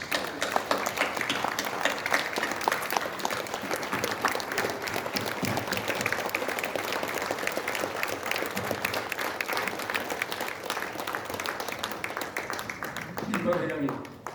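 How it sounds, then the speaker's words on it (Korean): Standing ovation from an audience at a commemorative awards ceremony, with steady, sustained clapping filling the hall at moderate loudness. A voice cuts in near the end. "김 회장에게 기립박수를 보낼 것을 제의합니다"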